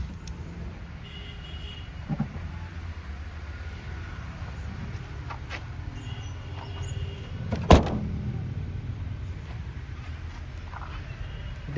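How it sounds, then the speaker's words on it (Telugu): The trunk lid of a 2008 Hyundai Santro Xing GLS petrol hatchback, with weak lid struts, slammed shut in one sharp loud thud amid low idle rumble and faint background voices. "అందుకే డిక్కీ సౌండ్ ఎక్కువ వచ్చింది"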